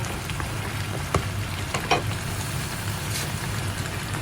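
Squash pieces sizzle and crackle steadily in a hot pan with onion, forming a continuous close frying hiss broken by a couple of sharp pops and clinks, with no talk.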